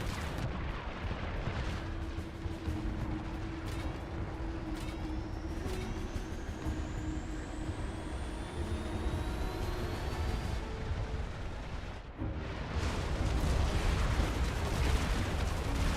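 Dense, continuous rumble of battle from the real-time strategy game Sanctuary: Shattered Sun, with heavy artillery-like booms and crashes packed together, rising sweeps overhead, and a brief dip before the barrage swells louder near the end.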